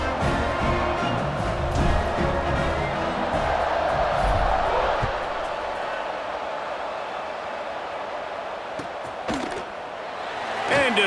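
Crowd noise swells in a video game college football match between Hawaii and Oklahoma as the teams line up for kickoff, a steady stadium roar with brief louder bursts near the start and end, mixed under commentary.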